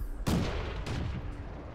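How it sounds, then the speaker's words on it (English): Tank cannon shots in World of Tanks: one sharp, loud boom near the start with a rumbling tail, then a second, weaker report about half a second later, fading into low game noise. "Lob a few more shells through the hole."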